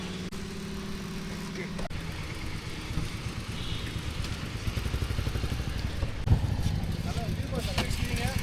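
A Kawasaki Ninja 300 motorcycle engine, fresh from a Shell oil change, idles and runs steadily close by while someone talks over it.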